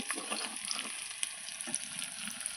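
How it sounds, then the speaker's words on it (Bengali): Meat and onions frying in a pan, a quiet, steady sizzle with soft crackles and occasional light stirring clicks, faint and close with no voices. "এই যে মাংসটা লাল লাল করে ভাজা হয়ে গেছে, পেঁয়াজগুলো ভাজা গেছে"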